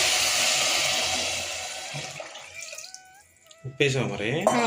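Water pours noisily into a pot of khichdi for a couple of seconds, then stops, followed by a few faint tones and a brief voice at the end.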